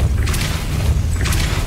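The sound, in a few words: Depulso spell cast in video game Hogwarts Legacy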